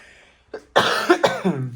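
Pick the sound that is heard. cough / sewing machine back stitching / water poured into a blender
cough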